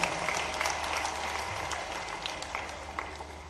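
An outdoor crowd at a public development-works ceremony in Sehore claps loudly and steadily to welcome the chief minister, a dense continuous applause.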